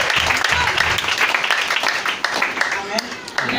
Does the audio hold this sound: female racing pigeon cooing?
no